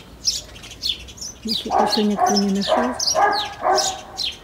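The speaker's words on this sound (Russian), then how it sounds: "Птички поют." Small birds chirp and sing repeatedly in a flowering garden with roses and spirea, their bright calls scattered throughout while a person speaks softly over them.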